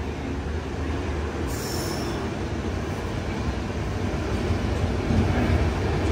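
The Humsafar Express pulls away near Srirangam with a steady low rumble of rolling carriages and a faint squeal of wheels. The sound is continuous and close, heard from on board.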